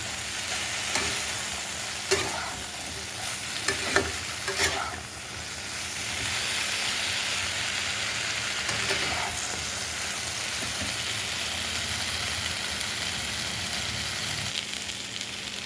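Kashmiri chilli powder is stirred into a frying poppy-seed and potato mixture in a pan, with a steady loud sizzle throughout and a few sharp scrapes and knocks of the spoon early on, with no talking.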